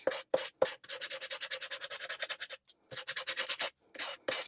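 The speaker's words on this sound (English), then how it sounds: "A file will do this," A hand file rasps back and forth across the wooden neck of a cigar box stick dulcimer, three sharp strokes, then quick rhythmic bursts of scraping in a steady run, a brief pause, and another run, close and clear.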